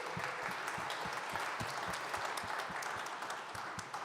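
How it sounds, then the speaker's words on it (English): A crowd at a Sunday service applauds steadily, many hands clapping in a dense, continuous patter that holds at an even level throughout. "can we give them a round of applause?"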